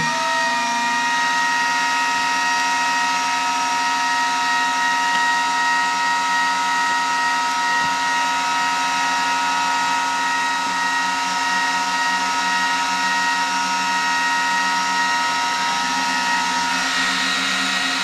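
A steady mechanical whir of a Dell R410 server's cooling fan runs continuously at constant pitch, a loud even drone with a faint high whine, no talking.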